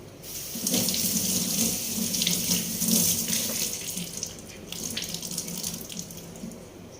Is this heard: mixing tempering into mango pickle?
no